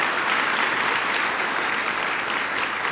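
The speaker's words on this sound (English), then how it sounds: "let's all give them a round of applause" Dense, steady audience applause fills a conference hall at a spring research meeting, sustained and even for about three seconds with no voices over it.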